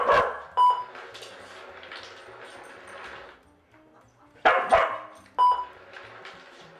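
A pet dog barks in a few sharp bursts during a tone-and-treat training game, near and loud, with quieter stretches and short electronic tones between barks.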